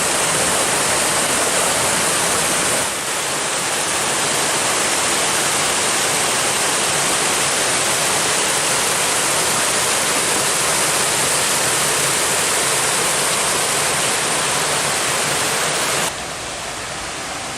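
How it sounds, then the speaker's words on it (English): A powerful waterfall on Slate Run along the Black Forest Trail roars with a loud, continuous broadband rush, close by and steady throughout, with no voices. "by this waterfall, and it is absolutely ripping."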